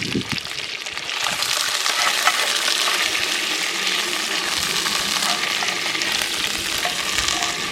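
Food fries in hot grease with a loud, steady sizzling hiss and crackle that runs throughout, close by, and a voice is briefly heard over it.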